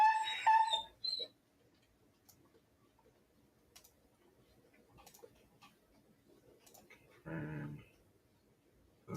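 A dog whimpers and yips in a room, with a high whine at the start, faint ticking and small noises in between, then a brief muffled bark-like burst near the end.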